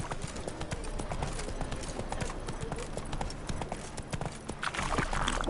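Rapid galloping hoofbeats of the horse Roach in The Witcher 3, a fast rhythmic clip-clop pounding steadily and close throughout, with a burst of extra noise at the end.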